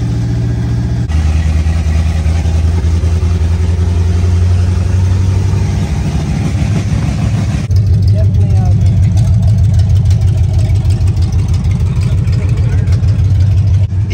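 A 1986 Ford F150 engine runs close and loud with a steady low rumble that rises and settles, its tone shifting partway through, with no break in the sound.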